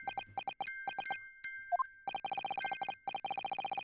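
A music box in The Great Ace Attorney video game chimes a short, bright plucked tune, its quick repeated notes set against a sustained tonal hum, breaking off briefly before the tinkling resumes, close and clear with no talk.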